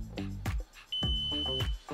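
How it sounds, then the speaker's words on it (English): A Telco foreign voltage detector gives a single sustained high electronic beep lasting under a second, set among louder, tonal background sounds. "If it hits 50 volts, it'll make a beep, your graph will light up."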